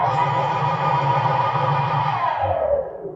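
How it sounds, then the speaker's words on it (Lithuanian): Synthetic Supersonic jet-like drive sound from a Hyundai Ioniq 5 N electric car: a dense, distorted, roaring harmonic whoosh held steadily, then dropping in pitch and fading out near the end. "Tai kaip naikintuvo garsas."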